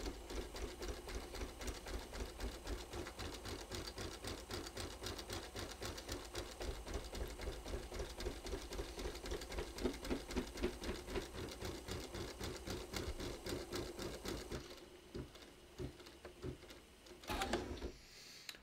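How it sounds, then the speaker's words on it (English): An embroidery machine bastes fabric in the hoop with a fast, even mechanical stitching rhythm for about fifteen seconds, then slows and stops, followed by a few faint handling clicks. "so I'm going to baste this in the hoop"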